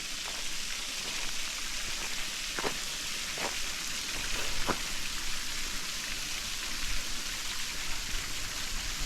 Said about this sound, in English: The water coming right over the falls here.